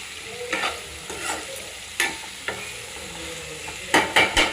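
Drumsticks and onions stirred in a frying pan for a drumstick and milk curry, soft sizzling under several scraping stirs, with a quick burst of clattering strokes at the end.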